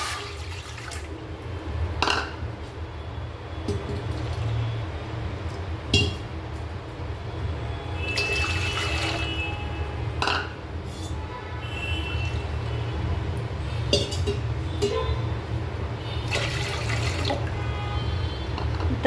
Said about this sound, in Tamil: அதுக்கு 3 கப் அளவுக்கு தண்ணி சேர்த்துக்கலாம்.